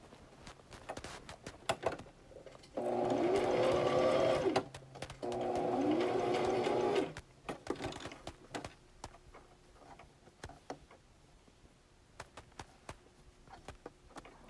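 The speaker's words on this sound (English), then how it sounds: "The backstitch, that's a big part in sewing, so your projects will never unravel." A sewing machine backstitches a fabric scrunchie in two bursts of rapid mechanical whirring with a short pause between, surrounded by quiet clicks and handling taps before and after.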